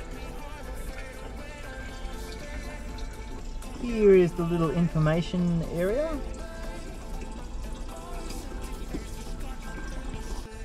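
A water tank fills through a hose and water filter with a steady, continuous rush of running water, while someone talks in the middle of it.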